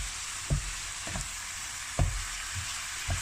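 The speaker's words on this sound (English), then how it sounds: "I'm going to add in the Chinese-inspired sauce. And we'll mix that through and cook that for the final minute." A vegetable stir fry coated in Chinese-inspired sauce sizzles quietly in a pan, with a soft steady hiss punctuated by four or five dull knocks of the utensil as it is mixed.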